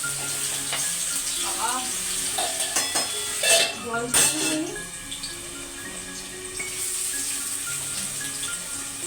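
Fennel seeds, dry red chillies and bay leaf sizzle steadily in hot oil for a Bengali tempering, a continuous crackling hiss with a few louder spits midway and faint clatter, no talk over it.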